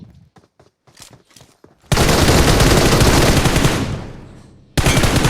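Loud, dense automatic gunfire in a video game, a long burst after a few light taps and then a second burst, close and alone.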